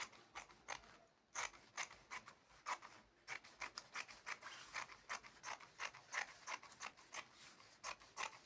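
Scissors cutting through palazzo trouser fabric, a quick series of close, crisp snips in irregular bursts, with short pauses between runs of cuts.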